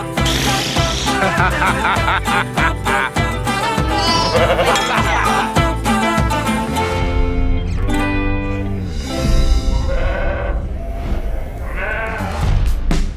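Sheep bleat repeatedly over a loud, busy music bed, the wavering cries rising and falling, with some voices mixed in.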